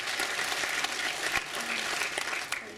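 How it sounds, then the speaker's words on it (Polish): Audience applause for the organizers at the Zambrowskie Żubry 2013 awards gala, where a piano competition was being honored. Steady, fairly faint clapping from a crowd fills the whole stretch without a break. "Brawa dla organizatorów"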